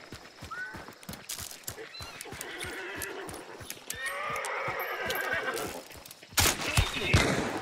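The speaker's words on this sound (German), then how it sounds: "Viele sich quälende Pferde." Several horses neigh and whinny in distress amid clip-clopping hooves in the video game Hunt: Showdown, loud and close, with a sharp burst of noise near the end.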